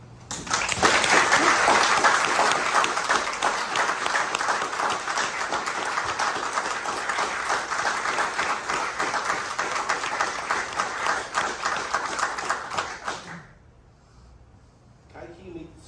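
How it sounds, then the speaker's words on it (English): Audience applause for an engineering award recipient at a Seattle awards event, dense sustained clapping from a crowd that carries on for about thirteen seconds, then fades out quickly to quiet. "Would you join me in a round of applause for this year's recipient, Kai-Ki Mao?"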